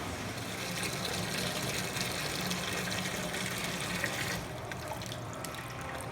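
Water from a tap runs steadily into a goat's water bucket during evening milking chores, a constant gushing fill that eases off slightly near the end, with no talking.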